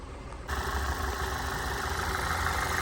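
A Skoda Octavia 4x4 engine idles steadily and evenly, a continuous close mechanical hum that settles in after a brief quieter moment at the start.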